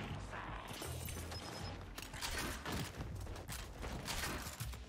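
Gunshots and clattering impacts from a ranked Control match in Gears 5, a busy, loud stretch of firing with crashes and some faint voices underneath.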